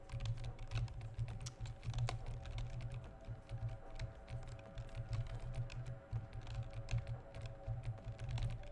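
Rapid, continuous keystrokes on a computer keyboard during play of the video game Octahedron, close and busy throughout with many clustered taps over a steady low hum.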